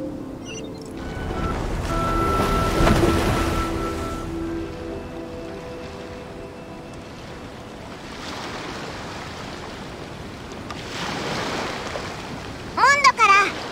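Ocean waves wash and wind rushes as a ship from Mondstadt arrives by sea in Genshin Impact. The broad surf swells and recedes in soft surges, with a short bright chime near the end.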